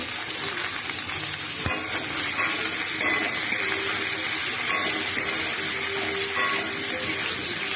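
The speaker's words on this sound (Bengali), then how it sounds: "হলুদ দিয়ে ভাজবো" Vegetables frying in a pan with turmeric for a light-spiced vegetarian curry, a steady close sizzle throughout with occasional stirring scrapes and one sharp knock, no voices.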